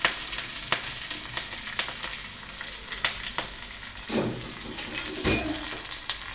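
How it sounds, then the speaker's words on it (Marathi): Fresh curry leaves hit hot oil for a tempering, crackling and spitting in sharp bursts over a steady sizzle, with a few spoon and pan clinks. "हा आपण कढीपत्त्यानं फोडणी टाकून घ्यायची."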